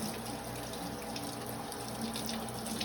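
Tap water running steadily into a kitchen sink while a cucumber is washed under it, a close, continuous splashing rush with no talking.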